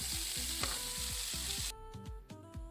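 Onions fry in oil for a chanda fish recipe, a steady close sizzle with repeated scraping and stirring sounds, and no voices.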